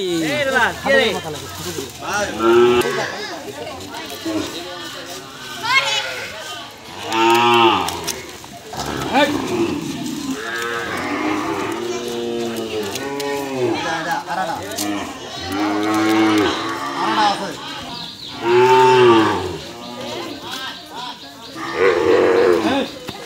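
Cows moo loudly and often at a veterinary hospital during vaccination, long close bellows rising over steady chatter from people around them.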